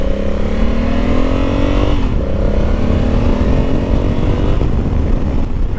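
A 2021 Honda Africa Twin motorcycle engine pulls steadily under acceleration, its deep, throaty tone rising in pitch, dipping briefly at a gear change, then climbing again, loud and continuous with no talking.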